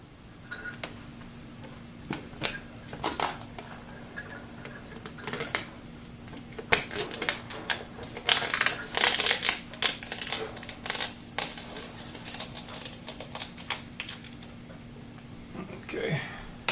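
Backing being trimmed off an acrylic plexiglass sheet for an arcade cabinet monitor bezel, a series of sharp close snaps, scrapes and crackles in irregular bursts, with a person talking between them.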